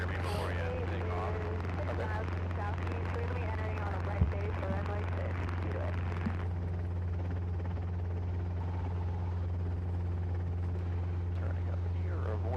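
Steady, loud helicopter rotor and turbine drone on a first solo flight, continuous throughout with a strong low thrum, while someone talks over it for the first half.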